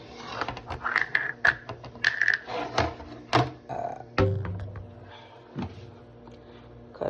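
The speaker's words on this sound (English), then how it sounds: "Cut up the habanero peppers real quick, just in pieces." A knife chops habanero peppers on a cutting board in quick, uneven taps and thunks, close and fairly crisp, with pauses between runs of cuts.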